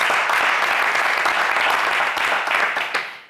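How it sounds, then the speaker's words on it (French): Studio audience applause on a French television game show, dense steady clapping from a large crowd that continues throughout and fades out at the end. "Allez, on vous applaudit, Aurel."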